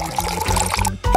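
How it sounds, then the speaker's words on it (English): Boiling water pours onto freshly hand-ground coffee in a steady, close stream lasting about a second, with a brief gap before a short final splash. "And only now, I will pour boiling water to the coffee."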